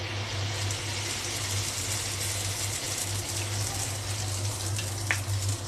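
Neyyappam frying in hot oil, with oil spooned over the top instead of turning it, gives a steady, close sizzling and bubbling hiss that runs throughout, with a faint crackle near the end and no talk.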